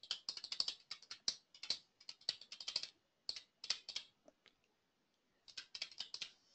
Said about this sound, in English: Here, I'll type it into the chat so you have it.